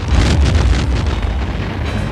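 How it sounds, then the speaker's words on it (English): A film-stunt explosion on the set of Rambo III in 1988: a loud, sustained low boom and rumble with roaring, wind-like noise lasting throughout, no voices. "we have a lot of explosions, which is all very dangerous"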